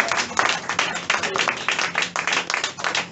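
A church congregation claps during a worship service, with dense, steady rhythmic clapping throughout and a crowd texture behind it.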